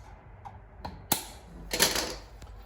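Milwaukee combination stripper pliers snip stray copper wire strands while wiring a pigtail receptacle, giving a few close, sharp clicks and a brief scraping rustle.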